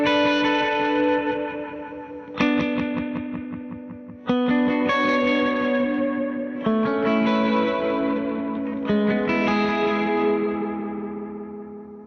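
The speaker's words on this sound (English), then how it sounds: "So 16th tape, this is without any reverb." An electric guitar played through a 16th-note tape delay preset with no reverb: several loud strummed chords ring out, each followed by repeating echoes that decay, alone and up close.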